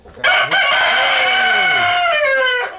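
A pet rooster hatched from a bought egg crows close by in Tangier, one loud, sustained cock-a-doodle-doo of nearly two and a half seconds, rising and then tailing off.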